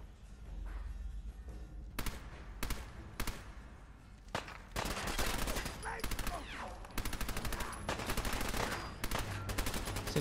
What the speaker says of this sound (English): see what this machine gun can do